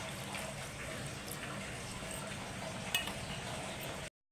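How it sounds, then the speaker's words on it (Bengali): Water from a rinsed bowl holding Kashmiri chilli powder pours into a cooking pan, a steady close hiss and sizzle running about four seconds before cutting off abruptly. "দিয়ে আমি এই বাটি ধুয়ে জলটা দিয়ে দিচ্ছি"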